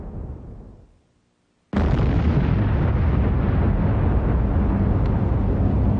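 A meteorite impact explosion effect: after a fading rumble and a brief silence, a sudden loud blast erupts into a sustained, dense roar that holds steady to the end.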